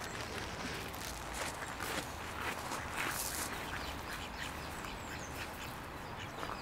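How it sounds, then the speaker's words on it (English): Ducks quacking at a pond, a steady outdoor wash of calls and rustling with no clear individual quacks standing out, moderately near and continuous throughout. "I want to feed the ducks."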